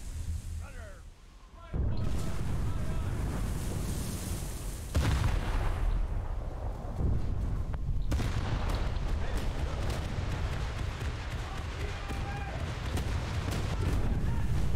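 Heavy booming blasts erupt as a submarine hits a naval mine in War Thunder, a deep explosion followed by rumbling impacts and crackling, with voices talking over the noise.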